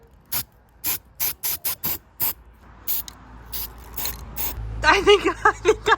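Short bursts of primer sprayed from an aerosol can onto a 3D printed key cap, a quick series of sharp hisses, then a denser run of spraying with a faint rattle.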